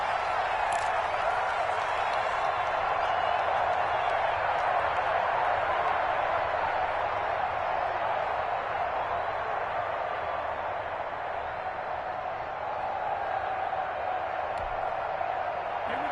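A large stadium crowd at an American football game in a video game keeps up a dense, steady roar and murmur throughout, fairly loud and continuous, with no distinct cheers or bursts standing out.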